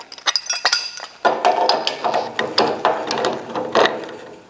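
Sharp metallic clinks and ratcheting clicks come in an uneven series as a wrench snugs down copper pipe fittings, close and distinct with no one speaking.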